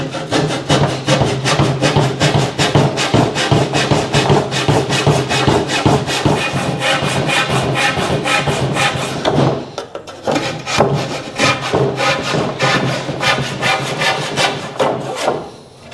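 A fine-toothed handsaw cuts through a wooden headboard being turned into a Halloween cemetery sign, with steady, rapid back-and-forth rasping strokes, loud and close, that pause briefly near the end before resuming.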